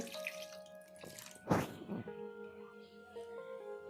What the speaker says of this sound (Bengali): এবার দিয়ে দেব জল। দিয়ে দিচ্ছি জল।